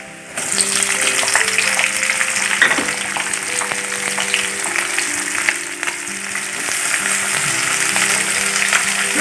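Onions fry in hot oil with ginger and garlic for a kadai chicken, a loud, steady sizzle that starts as they hit the pan, with occasional stirring clatter throughout.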